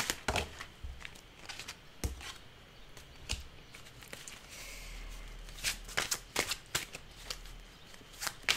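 Tarot cards shuffled and drawn by hand at close range, a quiet run of crisp riffling flutters and soft slaps in irregular bursts, with no voice over them.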